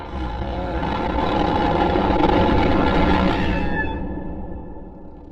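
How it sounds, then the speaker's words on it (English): A book being blown through, slowed down into a deep, rumbling roar like a monster, loud and sustained for about four seconds before fading out. "if you slow it down a bit, it will sound like this epic monster sound."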